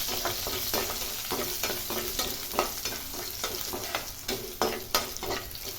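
Garlic frying in oil in a pan while a spoon stirs it, with a steady bright sizzle broken by regular scraping strokes and clinks that run through the whole stretch, close and clear with no speech.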